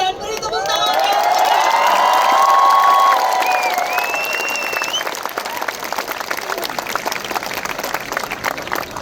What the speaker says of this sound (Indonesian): mari sekarang kita menyambut Bapak Stephen Tong dan beri tepuk tangan yang meriah